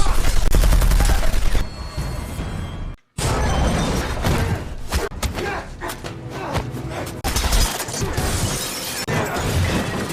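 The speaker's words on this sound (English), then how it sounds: "Gunfire erupts" Loud, chaotic bursts of gunfire in a shootout inside a house, with crashing impacts and thuds, a brief silence, then more intense shooting continuing throughout.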